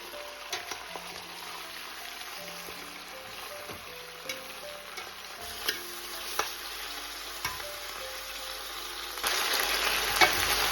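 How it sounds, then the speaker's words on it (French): Pieces of meat fry in oil alongside browned onions for a kondrè, a constant low sizzle with scattered soft clinks of stirring and quiet background music, growing louder and hissier toward the end. "je vais rajouter la viande pour faire légèrement passer dans l'huile"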